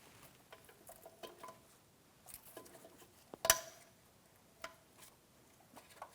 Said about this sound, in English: Listen for an audible click from each one of the two locking tabs.